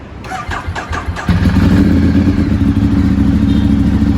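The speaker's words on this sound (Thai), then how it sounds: "อันนี้ผมถือว่าสตาร์ทติดง่ายมากๆแล้วนะ" A Ducati 848 Evo motorcycle, engine cold, cranks briefly with a clattering starter and then fires, settling into a loud, throbbing idle heard up close.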